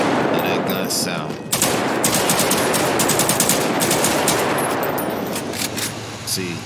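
Sustained machine gun fire in GTA V, a dense rapid burst of loud shots that runs almost continuously with brief breaks.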